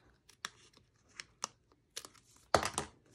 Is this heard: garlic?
no